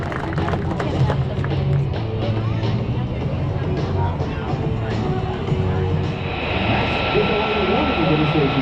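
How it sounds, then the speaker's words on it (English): Aircraft engine noise rumbles through an air show, a steady broad roar with a rising high-pitched jet whine toward the end, while people talk over it. "we need to have that aircraft landing immediately because we're trying to do an air show here"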